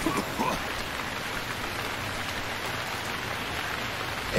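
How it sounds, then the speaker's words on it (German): Rain falls in the survival game Stranded Deep, a steady, moderately loud wash of drops hissing on surfaces with a few brief clicks at the start and end. "Der Regen setzt mir zu, oder was?"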